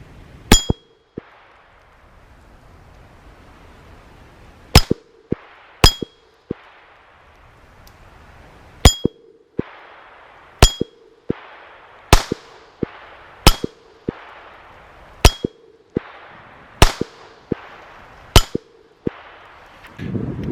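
A Smith & Wesson .22 LR pistol is fired one-handed, left-handed at a range, with about a dozen sharp, loud cracks spaced irregularly a second or so apart, each followed by a ringing metallic clang.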